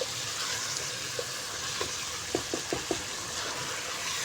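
Chicken keema and potatoes stir-fried in a pan give a steady low sizzle, with a few sharp spatula scrapes and taps against the metal in the second half.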